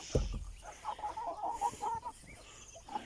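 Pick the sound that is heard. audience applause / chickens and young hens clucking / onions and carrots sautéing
chickens and young hens clucking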